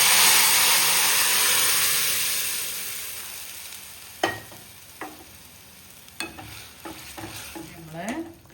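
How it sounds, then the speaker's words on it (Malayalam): Mustard seeds and curry leaves tempering in hot oil for a potato stew give a loud, close hiss and sizzle that fades gradually, followed by several sharp spoon scrapes and clinks against the pan. "നമ്മൾ കടുകൊക്കെ ഇട്ട് താളിച്ചു."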